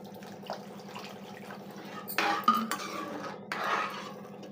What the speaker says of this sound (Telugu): ఇప్పుడు మనం చక్కగా కలుపుకుంటూ ఉండాలండి